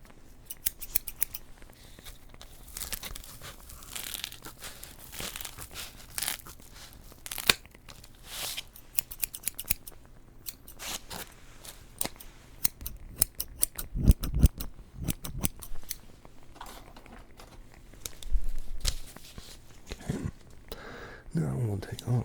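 Scissors snipping through a dish sponge down the middle, a long series of close crisp crunchy cuts in uneven rapid bursts with brief pauses, a voice talking at times over them.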